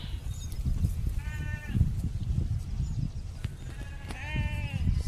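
Sheep graze in a crop field and bleat twice from moderately near, with wavering, harmonic calls about three seconds apart, over a constant rustling, noisy outdoor background.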